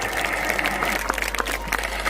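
An audience at a school annual function in Ishwarnagar, Keshoraipatan, gives loud, continuous applause, a dense wash of clapping that runs the full length without speech.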